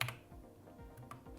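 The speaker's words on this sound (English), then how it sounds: "You can like type everything, double click on it, and just type it." Keystrokes on a computer keyboard: a quick cluster of clicks at the start, a couple of soft isolated taps through the middle, then more clicks near the end, close and fairly quiet with no voices.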